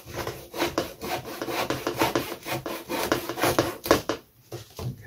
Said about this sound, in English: So I'm going to get the hacksaw out and remove the nose.